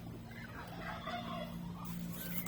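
Ducks and young ducklings on a Filipino backyard farm keep up a steady chorus of calls, close by and fairly loud, layered over a constant low hum.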